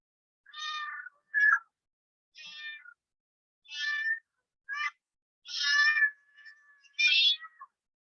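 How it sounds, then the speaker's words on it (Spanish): A cat meows seven or eight times in short, separate calls spaced by pauses, fairly soft and close, with one call trailing into a thin drawn-out whine; no talking. "Ese es un gato."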